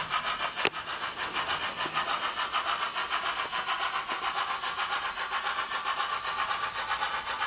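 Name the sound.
OO gauge 2-6-2T model locomotive with Soundtraxx Econami sound decoder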